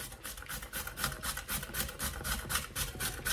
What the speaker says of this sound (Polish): Cukinię mam odważoną, teraz ścieram na tarce jarzynowej.